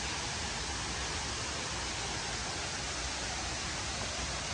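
Water pours steadily over the Tham Soda waterfall in August, a dense unbroken roar that stays loud and even throughout, with no voices.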